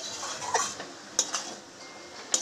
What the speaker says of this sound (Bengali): ভালো করে আবার মিশিয়ে নেব মশলাগুলোকে।